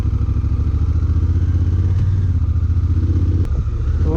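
A 2016 Honda Africa Twin motorcycle rides along with a steady, loud, pulsing engine drone and a low throbbing rumble, plus a brief clatter near the end.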